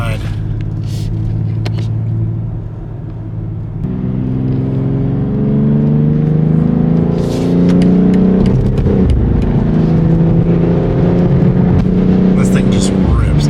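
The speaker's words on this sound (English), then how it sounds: "It is so much fun to get it on the on-ramp and get it onto the highway, because the acceleration is just so fast" Engine of a 2022 BMW X3 M Competition pulling hard up through the gears, rising tones stepping upward under a steady road rumble from inside the cabin, with someone talking over it.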